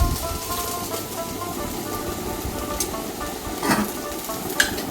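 Salted, squeezed radish greens hit a hot pan with black cumin seeds, setting off a steady close sizzle and frying crackle with occasional stirring scrapes, and no talk over it.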